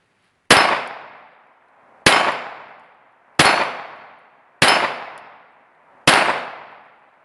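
.45 ACP pistol shots ringing off a steel target, five sharp metallic impacts at roughly even intervals, each loud crack followed by a bright, decaying clang.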